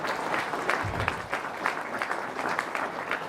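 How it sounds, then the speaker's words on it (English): A round of applause from a gala audience, brisk continuous clapping from a mid-sized crowd, fairly close and steady throughout. "Wow, give it a round of applause."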